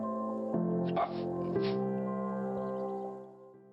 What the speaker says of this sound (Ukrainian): Пес із ДСНС Патрон інформує